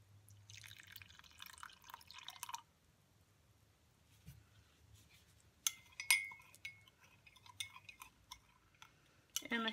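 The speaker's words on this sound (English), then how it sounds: "I guess I could just pour a little bit." Cotton dye liquid poured into a container, with thin trickles and drips, then light clinks and taps, quiet and close with no talk.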